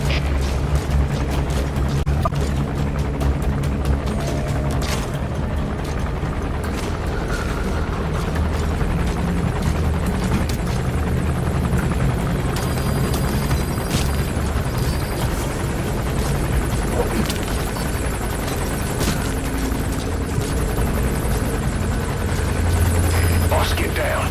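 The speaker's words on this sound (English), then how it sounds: "That's an enemy gunship." Enemy gunship helicopter in the Metal Gear Solid V video game, a constant rotor thrum and engine rumble running throughout under game sound effects and voices.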